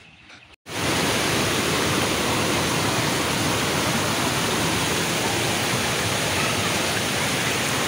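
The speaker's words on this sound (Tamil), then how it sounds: "பாருங்கள் அருவி எப்படி உழுது பாருங்கள், செம்மையாக உழுது." After a brief quiet moment, a waterfall pours in a loud, steady, close rushing roar of falling water that continues unbroken, with no talk over it.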